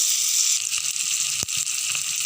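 Bright, loud sizzling of tomatoes and green chilli hitting hot tempering oil, a constant crackling hiss with one sharp clink midway.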